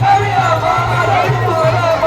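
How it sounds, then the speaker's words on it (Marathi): A dense crowd at a Mahashivratri village fair in Khanivali: a constant murmur of many voices blending into a loud babble, with steady low droning music underneath. "खूप गर्दी आहे इकडे खानिवली आमची खूप गर्दी आहे इकडे"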